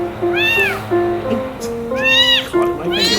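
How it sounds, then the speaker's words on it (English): Hungry, cold kitty meowing several times up close, drawn-out plaintive cries with pauses between them, over a steady background tone. "there's nothing sadder in the whole world than a kitty that's hungry and cold"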